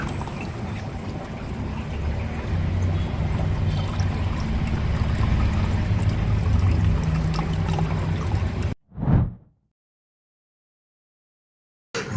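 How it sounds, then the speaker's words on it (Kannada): Water trickles slowly from a plant holder cup into a mini betta aquarium in a steady, gentle stream for several seconds, then stops, followed by one brief splash and silence. "ನಾವು ಆ ಪ್ಲ್ಯಾಂಟ್ ಹೋಲ್ಡರ್ ಕಪ್ಪಿಂದನೇ ನೀರು ಹಾಕ್ತಾಯಿದ್ದೀನಿ, ಸೊ ಅದರಿಂದ ನಿಧಾನಕ್ಕೆ ನೀರು ಬೀಳ್ತಾ ಇದೆ"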